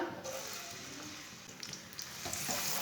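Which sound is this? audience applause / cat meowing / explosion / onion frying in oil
onion frying in oil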